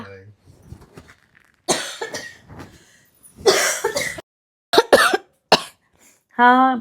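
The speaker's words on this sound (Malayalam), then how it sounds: "എന്താണ് നന്നായിട്ട് ചുമക്കുന്നുണ്ടല്ലോ, എന്ത് പറ്റി?" A person coughs in several sharp, harsh bursts spaced a second or two apart, close and fairly loud, with quiet talking between the coughs and a voice near the end.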